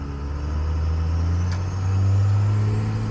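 A Cummins regular cab short bed pickup truck with a shifting fault pulls away from a stop, its loud diesel engine drone rising steadily in pitch as it accelerates from close by, with no one speaking.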